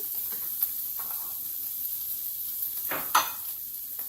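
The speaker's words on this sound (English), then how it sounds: "now while my bacon is cooking" Bacon frying in a pan for a grits breakfast bowl, a steady close sizzle throughout with a couple of brief louder crackles and light utensil taps.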